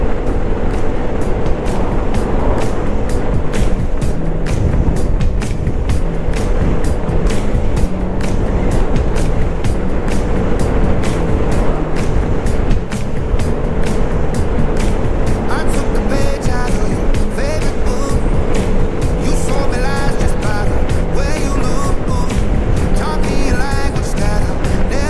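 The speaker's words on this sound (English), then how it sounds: "today is the first time I'm really going to do a little trip on the Vespa" A light blue Vespa GTS scooter riding and accelerating, its small engine buzzing steadily under heavy wind rush, with a constant, close, unbroken drone and faint speech.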